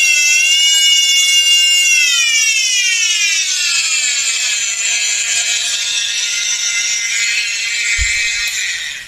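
A RYU RMT 6 oscillating multi-tool runs at its top speed setting of 6, giving a loud, steady high-pitched whine that slides downward in pitch over the first few seconds and then holds. The whine continues alone, with a brief knock near the end.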